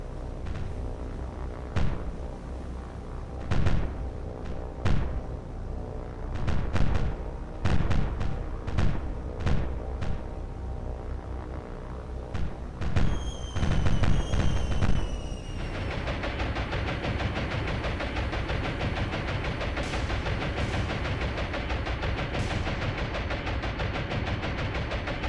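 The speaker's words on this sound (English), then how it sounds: "Torpedo bombers coming in to hit these ships." Gunfire and explosions in the War on the Sea naval video game as torpedo bombers attack ships: a series of heavy booms and thuds, then a sustained loud roar of engines and battle noise filling the second half.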